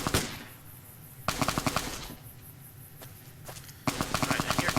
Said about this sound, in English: I hear gunfire, I just don't know where it's coming from.